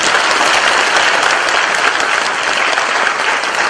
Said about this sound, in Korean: 우리 함께 영광의 박수를 부릅니다